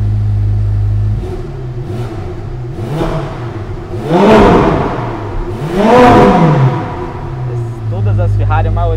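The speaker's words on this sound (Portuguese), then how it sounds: "Que carro, V8 ligado." A Ferrari 488 Pista V8 engine idles low, then revs up sharply twice in loud, sweeping surges, dropping back to a rumbling idle between them.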